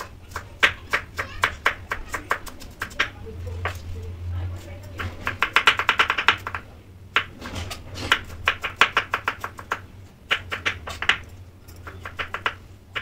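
A knife finely chops cucumber on a board in quick bursts of sharp, rapid taps separated by short pauses, close and crisp. A voice talks at times in the background.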